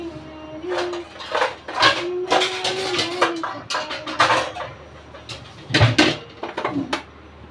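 A metal cooking pot, the kind locally called a langdi, is set down on a gas stove in a home kitchen during fish-fry preparation: a few sharp metallic clanks and knocks, with a person talking throughout.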